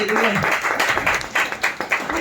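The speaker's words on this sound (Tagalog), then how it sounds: "Minsan pa nga po isang mapagpalang palakpak o pagsambang palakpak sa ating Diyos." A church congregation claps in praise to God during a worship service, a dense burst of applause filling the room with voices mixed in throughout.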